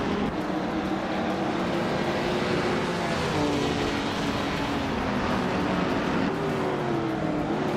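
Race car engines roar steadily in a close video game battle for third place, nose to tail, with a constant loud drone and rising and falling engine pitch as the cars jostle.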